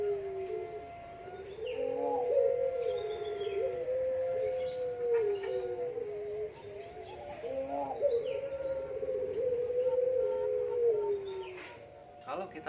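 A puter pelung turtle dove coos in long, drawn-out, mellow calls, repeated twice with a short gap, fairly close and clear, with no talk.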